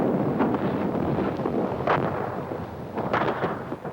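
Artillery barrage opening fire in a World War II offensive, a continuous dense rumble of distant booms and thuds with wind-like noise throughout.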